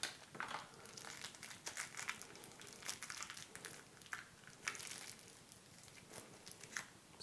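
Quiet, close crinkling and rustling of thin plastic, with irregular crackles and rustles throughout as a bag is handled and opened.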